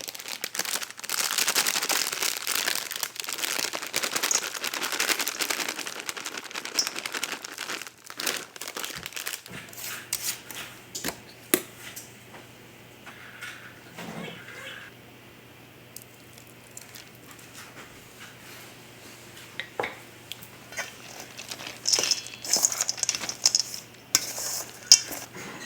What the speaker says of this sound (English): I'm going to actually stir in some chocolate chips and make these scones